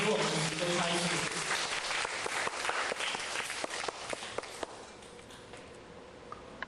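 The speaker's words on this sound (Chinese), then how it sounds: "那我们再一次以热烈的掌声感谢我们陈讲师" A lecture audience applauds to thank the lecturer, Chen, with dense, sustained clapping that gradually thins out into a few scattered, separate claps near the end.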